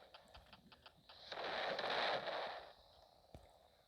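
A bomb explodes in a Roblox tower-destroying game as one soft, muffled burst of noise swelling and fading over about a second and a half, preceded and followed by faint clicks and taps.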